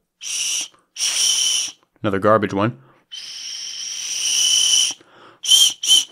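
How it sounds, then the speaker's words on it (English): Shrill, breathy whistle blasts sound several times, some short and one long and wavering, with someone speaking briefly between them. "And then this is another whistle."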